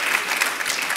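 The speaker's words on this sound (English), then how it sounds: "Yeah, go ahead, you can clap for that" An audience claps at a live festival interview with a city mayor, a dense, steady burst of applause that is loud and close, with no voices over it.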